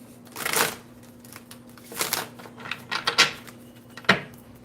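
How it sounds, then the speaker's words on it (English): A deck of playing cards is shuffled in several separate bursts of riffling and flicking, close and crisp, with short pauses between them and no talking. "You saw me shuffle that deck."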